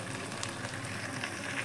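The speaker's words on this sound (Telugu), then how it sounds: "తాలింపు వేసుకుందాం." Spices crackling and sizzling in hot oil for a tempering in a home kitchen, a steady faint hiss with scattered small pops, close and alone without talking.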